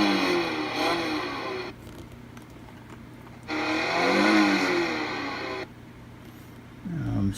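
Recorded car engine revving effect played from a DIY electronic busy box toy, two loud sustained revs with rising and falling pitch separated by a quieter idle hum, close and alone.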